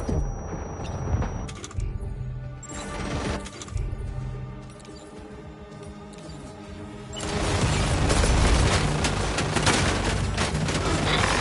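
Video game gunfire, scattered shots and clatter at first, then a sustained loud barrage of rapid fire over the last few seconds.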